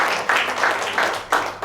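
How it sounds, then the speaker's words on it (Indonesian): Audience applause at a book launch in Indonesia, a short dense burst of clapping that swells in repeated waves across the room. "tepuk tangan untuk Ibu Betty"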